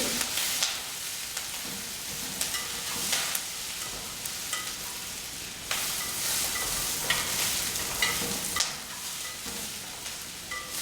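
Brown rice toasts in a pan, a soft continuous sizzle broken by repeated scraping bursts as it is stirred, fairly close and moderately quiet.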